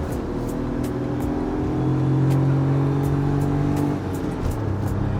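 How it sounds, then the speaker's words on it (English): A 25-year-old Suzuki Alto fitted with Automech headers and a free-flow exhaust hums steadily while driving, a low subdued engine drone rising slightly in pitch mid-way with a few faint clicks and ticks above it. "the Automech headers and free flow exhaust aren't really that loud, and in fact they're pretty subdued, but it does give you a nice little hum"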